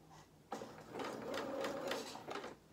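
A home sewing machine stitches fur fabric for a small doll's jacket, one continuous close run of rapid needle chatter lasting about two seconds after a quiet start.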